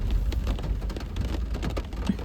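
Steady rain falls in Mussoorie, a dense, even hiss of drops on surfaces that fills the whole stretch with no talking.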